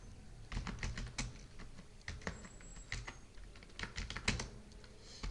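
Computer keyboard typing in MS Word, quick irregular key clicks in short bursts, fairly close and clear, with no speech.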